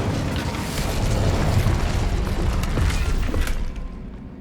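In Hogwarts Legacy, an Incendio fire spell erupts with a loud rumbling whoosh and burst that holds for a few seconds before cutting off abruptly.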